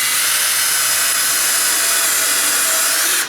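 A power drill whirs continuously as it drives a screw into the wood of a tall sagging door, loud and close, then winds down at the end.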